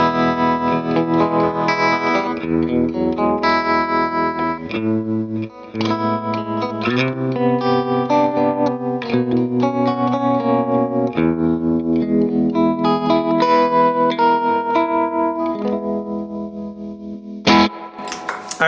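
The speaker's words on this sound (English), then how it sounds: "we're going into the tremolo first." Electric guitar through a Boss TR-2 tremolo pedal playing a sustained, effected riff with a fast pulsing tremolo wobble, loud and continuous, with a brief break near the end.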